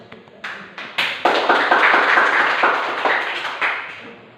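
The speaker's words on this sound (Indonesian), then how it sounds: "Kita berikan aplaus" Applause from a classroom of students, a burst of clapping that builds quickly and carries on steadily for several seconds before tapering, fairly close and loud with no talking.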